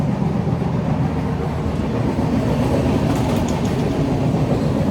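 An Indian passenger train rolls along with its carriage doors open, giving a loud, steady roar of wheels and rushing wind with faint rail clatter, constant throughout.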